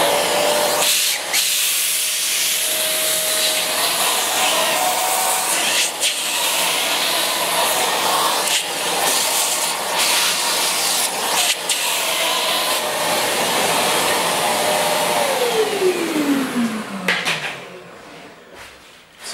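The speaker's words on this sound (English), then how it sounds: "I use a vacuum cleaner to get rid of all the chips." Vacuum cleaner sucking up metal scraping chips, a loud continuous hiss and rush with small rattles and knocks, the motor winding down near the end.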